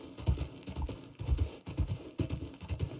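Horses' hooves clip-clop in the Red Dead Redemption game, a steady multi-horse rhythm of close, loud hoof strikes in repeated bursts with no talk over them.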